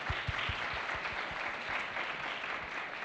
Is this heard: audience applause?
yes